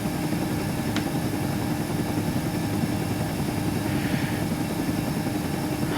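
Engine of a UH-60M helicopter in Aerofly FS 4, a loud, steady turbine drone with a constant whine that holds even throughout, with no talking.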